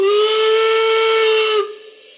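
A model DB BR 01 steam locomotive's sound decoder gives a loud, steady steam whistle with a hissing edge for about a second and a half, then cuts off, leaving a softer hiss of escaping steam.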